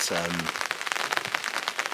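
Rain falling on a riverbank during a barbel fishing session on the River Severn at Quatford, steady patter of drops with a person speaking briefly at the start.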